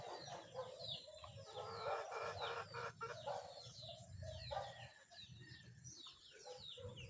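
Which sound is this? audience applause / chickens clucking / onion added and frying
chickens clucking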